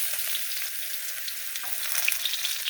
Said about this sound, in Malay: dengan minyak banyak ni dia nak tumis bahan-bahan ni